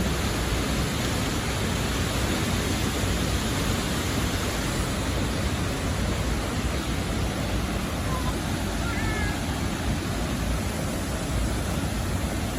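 Haew Suwat waterfall at Khao Yai gives off a steady, loud roar of falling water. The broad rushing sound fills the whole stretch without letting up.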